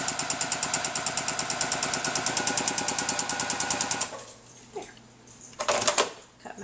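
A Juki TL-2010Q sewing machine doing free motion quilting stitches at a rapid, even mechanical chatter for about four seconds, then stops as the stitching runs off the edge, leaving a few soft handling bumps and rustles.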